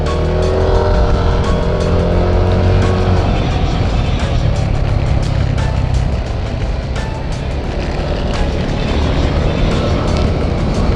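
Road traffic heard from a moving car on a quick ride to Antipolo: a steady, loud engine and road roar with passing vehicle noise, constant throughout.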